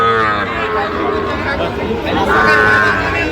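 Sahiwal cattle moo repeatedly amid a busy livestock market crowd, with a steady babble of voices and market noise underneath the loud, drawn-out lowing.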